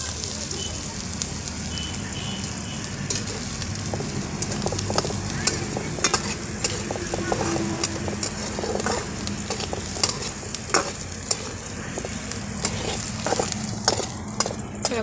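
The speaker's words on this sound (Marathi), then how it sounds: "कांदा छान परतून घ्यायचा बघा" Onions are sautéed in a pan for a village-style kurdai vegetable dish. A constant sizzle mixes with repeated scraping and clinking strokes of a stirring spoon, while faint voices sound now and then.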